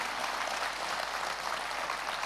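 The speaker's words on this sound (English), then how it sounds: "I want this side to clap." One half of an audience at a youth festival claps together, a dense, steady wash of hands heard from a distance for a couple of seconds, with no talking over it.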